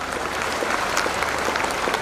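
An audience at a Dasara religious assembly in Basavakalyan, Bidar district, claps together in a dense, sustained round of applause, close and even throughout.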